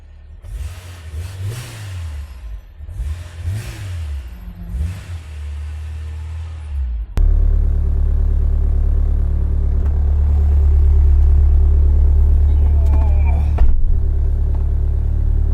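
A Honda S2000 sports car on the road, first with engine revs rising and falling through gear changes, then a loud, sustained acceleration pull heard from inside the cabin.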